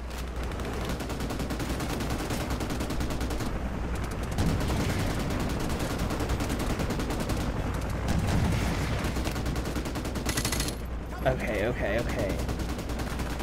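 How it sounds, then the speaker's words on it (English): Dense, continuous gunfire and artillery in the video game Modern Warfare Remastered: loud sustained automatic bursts with heavy booming blasts, and a brief spoken word partway through. "I'm definitely going to just unload as much artillery as I can."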